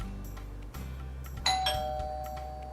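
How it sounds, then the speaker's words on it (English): A doorbell rings with a clear two-tone chime over a low background hum, the bright tones sustaining and fading out over a couple of seconds. "A doorbell sound lets us know that guests have arrived."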